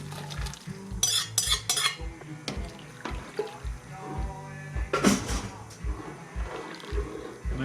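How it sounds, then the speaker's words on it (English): Turkey goes into a pot of gumbo with sautéed vegetables and is stirred, giving repeated metal spoon scrapes and clanks against the pot close up, with a voice talking in the background. "We add our turkey in there."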